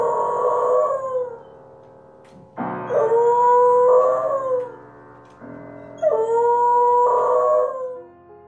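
A three-year-old beagle howls in long, wavering tones alongside piano notes, three sustained howls separated by short pauses, loud and close.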